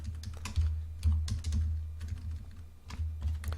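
Rapid typing on a computer keyboard while cells are merged in an Excel spreadsheet, with an irregular run of close, crisp key clicks and short pauses over a low steady hum, with no talking.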